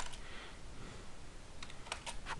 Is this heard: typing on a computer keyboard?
yes